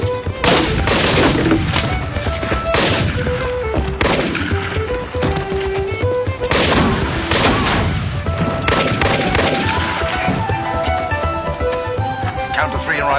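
Loud, dense bursts of gunfire fill a police shootout scene in the TV drama Due South, with rapid overlapping shots and heavy thuds running nearly without pause, mixed with dramatic background sound.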